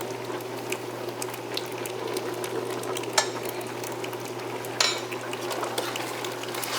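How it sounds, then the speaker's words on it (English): Simmering penne alla vodka sauce bubbles and sizzles softly in a pan as it is stirred, a steady low crackle broken by a couple of sharp scraping clicks, with no talking. "Now we'll just stir it around a little more."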